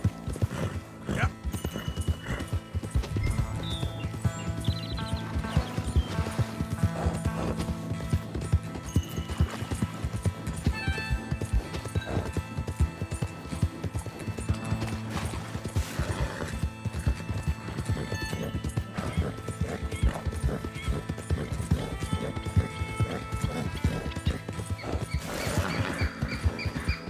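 Hooves clip-clop steadily as a horse gallops in the Red Dead Redemption 2 video game, with occasional neighs and whinnies over a busy music-and-effects bed, rhythmic and continuous throughout.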